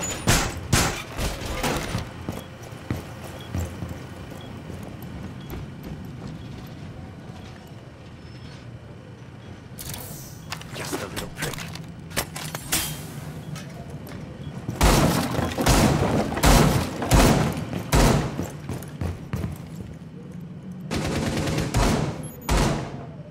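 Shotgun fire in a Rainbow Six Siege team deathmatch bomb round on the Oregon map, loud sharp blasts in clusters with a broadband crack each time, heaviest near the middle and end, over a steady game background.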